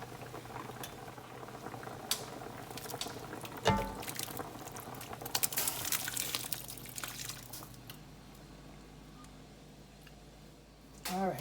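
Blended pepper, onion and tomato pour into a pot of simmering fufu soup, giving bubbling and liquid splashes with a few knocks and clatters, then settling into a softer steady bubbling near the mic.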